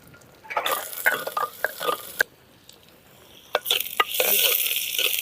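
Intermittent sizzling and crackling of onions frying in oil, with scattered clicks and stirring sounds, close by and moderately loud.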